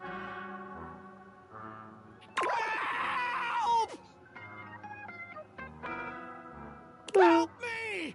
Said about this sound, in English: your inspection is cut short by his disturbing screams